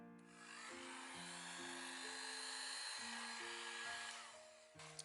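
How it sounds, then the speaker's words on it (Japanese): A hair dryer blows on alcohol ink on paper with a loud, steady whine that starts, shifts pitch several times as it is moved or adjusted, and cuts off near the end. "そこをすかさずドライヤーで乾かします"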